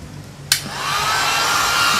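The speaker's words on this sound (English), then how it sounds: "Moving the hairdryer around so that the motor doesn't get too hot." A click, then a hair dryer switches on and blows steadily with a rising whine and a constant rushing hiss.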